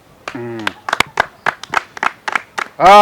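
A small gathering after a community work session claps in a loose, uneven rhythm of sharp individual hand strikes, ending in a burst of voices.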